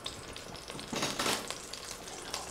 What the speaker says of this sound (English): I like to hear it sizzle when I put it in there.